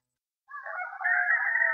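A rooster of a gamefowl breeding flock, straight comb Kelso line, crows once in a single drawn-out call that starts after a short silence and holds strong and fairly near to the end, with no talk over it.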